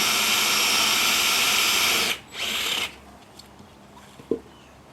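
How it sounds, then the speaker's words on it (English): A power drill bores a 12mm hole through a wooden fence post, running loud and steady for about two seconds, dipping briefly, surging again, then stopping with a few small clicks and knocks afterward. "so we'll just drill through that."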